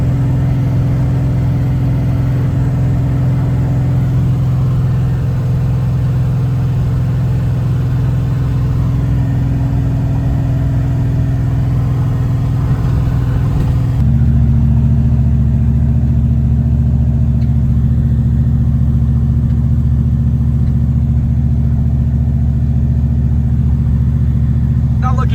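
A Conquest drag-and-drive car cruises on the highway with a steady, loud engine drone and a deep low rumble. Midway the engine note shifts down slightly, then holds constant without a break.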